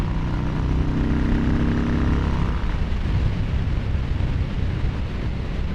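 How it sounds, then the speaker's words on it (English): Yamaha Bolt motorcycle engine fitted with a Vance & Hines air filter, riding up Bouquet Canyon: a loud, steady throaty drone with a rising pitch early on, then a rough rumbling cruise amid wind noise. "This is my second ride with the new Vance & Hines air filter down there."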